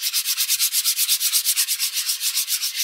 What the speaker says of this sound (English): what this does is just removes some of the paint and ink that you've applied to the top of the surface